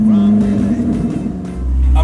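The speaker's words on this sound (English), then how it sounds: "Ah, that sound, it's just so emotional, just directly connected to the engine." A Koenigsegg Jesko pre-production hypercar engine roars on a track, a loud continuous drone that rises and falls and is joined by a deep low rumble near the end, with a voice speaking over it.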